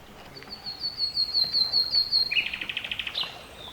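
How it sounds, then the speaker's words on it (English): Birdsong in a wetland on a summer afternoon: a thin high whistling note, then a quick run of bright chirps, soft and somewhat distant over quiet outdoor background. "In the background, birdsong drifts through the air, echoing the slow rhythm of a summer afternoon."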